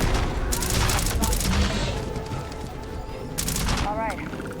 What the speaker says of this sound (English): It's a super accurate grenade launcher.